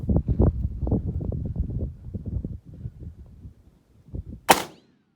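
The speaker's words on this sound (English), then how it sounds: "hopefully we'll get a nice good gravy can explosion" A 6.5 Creedmoor rifle shot at a gravy can 200 yards away cracks as one sharp, loud report near the end, after a stretch of talking and quieter handling.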